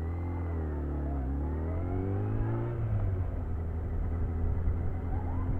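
A purple Dodge SRT, a Challenger or Charger, drives past on a road, its engine a steady mid-pitched rumble and whir that swells as the car passes close by, with no talk over it.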